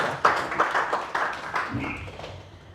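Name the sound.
audience applause for a speaker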